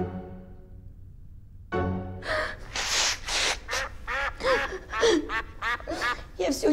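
A drake duck in a park gives a run of loud, close, raspy quacks in quick succession after a brief quiet start, with some talk faintly underneath.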